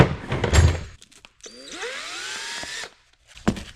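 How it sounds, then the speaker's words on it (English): A power drill bit bores through fabric while a bag mount is being made. A single whirring burst climbs in pitch for about a second, preceded and followed by brief handling clatter. "We have a drill bit coming through fabric."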